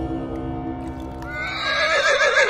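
A horse in an animated folk-tale cartoon lets out a loud, drawn-out whinny that rises into a shrill, wavering neigh, with faint hoof clip-clop under it.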